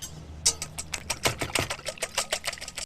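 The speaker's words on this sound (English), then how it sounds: "And I'll start by whisking the eggs." Eggs being whisked for a blackberry batter, a quick run of sharp, close scraping beats against the bowl at an uneven pace with no talk.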